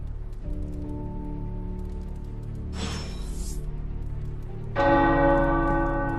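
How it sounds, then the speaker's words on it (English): Tower bells ring in the video game Marvel's Midnight Suns, sustained resonant tones humming on, with a brief noisy rush midway and then a fresh, louder bell strike that rings out brightly. "The tower bells are ringing"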